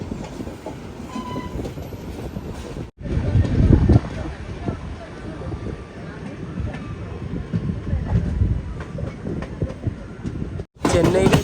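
Tambaram Mangaluru Express heard from inside a sleeper class coach, a continuous loud rumble with rhythmic wheel clatter throughout and a voice talking over the steady noise of the moving train.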